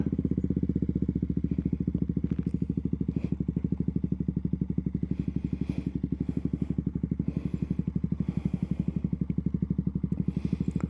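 A KTM Duke 200 motorcycle engine runs steadily and close by at a low, even, pulsing idle-like rumble while the bike turns around, with faint background noise over it.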